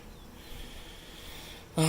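Honey bees buzz softly in a Flow Hive during installation, a faint steady drone close by, cut off by a sudden louder knock or thump at the end.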